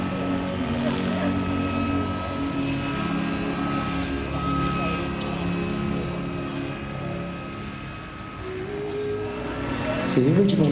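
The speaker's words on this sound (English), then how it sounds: "So the original Lynx helicopter," A Vario electric-powered RC model of a Royal Navy Westland Lynx helicopter flies at the Weston Park International model show, its rotor and motor whining steadily and fairly loud throughout, with a short sharp rise near the end.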